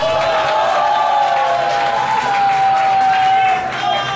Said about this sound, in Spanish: Aplausos para Anto Madison.